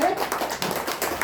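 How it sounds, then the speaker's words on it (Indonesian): Short burst of audience clapping at a photography and creative-economy talk, a quick dense patter lasting about a second. "Tepuk tangan dulu."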